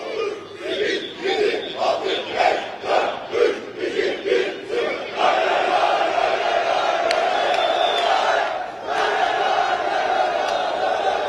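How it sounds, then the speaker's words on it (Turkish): Fenerbahçe supporters gathered in İzmir before the away match against Göztepe chant and roar in unison, a massed crowd whose rhythmic shouting swells into a continuous loud cheer. "coşkulu tezahüratlar"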